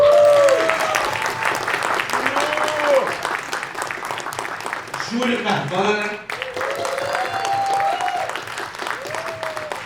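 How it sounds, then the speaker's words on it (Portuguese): An audience applauds guests at a tribute event, a sustained round of clapping heard beneath someone speaking over a microphone, the clapping swelling and fading as he talks. "Eu queria pedir um aplauso de vocês para Lulu Correia"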